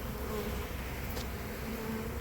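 A swarm of bees buzzing in a front yard driveway, a steady, continuous drone that holds even and fairly close throughout, with no voices.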